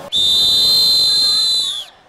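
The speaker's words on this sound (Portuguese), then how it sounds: "O apito já podia ser ouvido de longe." Football fans celebrating a Brazil match in Rio Preto blow a whistle, one shrill, steady, loud blast that lasts about a second and a half and then cuts off, heard alone.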